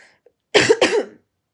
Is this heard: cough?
yes